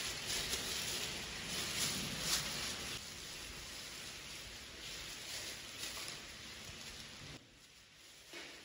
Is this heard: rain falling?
yes